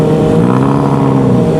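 A car with an open pipe exhaust revs loudly and close by, a brief steady, rough engine drone with no pauses.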